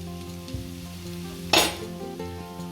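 Vegetable filling for onion- and garlic-free veg rolls stir-fried in a pan, giving a steady low sizzle with a sharp scrape of the spatula against the metal partway through, and a soft clink near the start.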